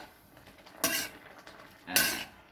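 Pork stir-fried with curry paste and long beans in a pan, with two distinct metallic scrapes of a utensil against the pan over a quiet background.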